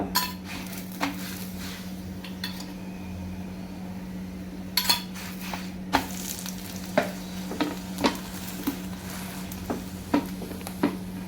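A mooli (radish) paratha roasting in oil on a hot griddle, a constant close sizzle punctuated by regular sharp metallic taps and scrapes from a utensil, about one per second toward the end, with no voices.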